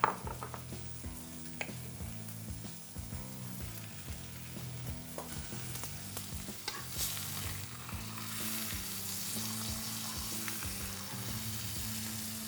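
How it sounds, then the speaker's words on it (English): Butter melts and sizzles in a pan beside a gammon steak, a steady, fairly quiet frying hiss over low, tonal background music, with a few faint stirring taps and no talking. "as that butter melts and caramelizes, it'll help give a bit of colour on the bacon"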